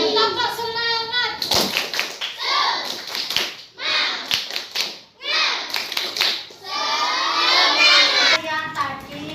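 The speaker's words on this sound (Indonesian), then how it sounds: "Coba saya sekarang tepuk semangat semua." Elementary school pupils in a fourth-grade classroom in Gresik do a rhythmic spirit clap, bursts of sharp clapping alternating with children's voices chanting and talking loudly nearby.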